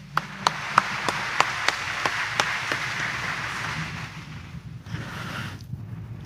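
Scattered claps from a church congregation, a few sharp separate hand claps over a steady roomy wash of applause that slowly fades.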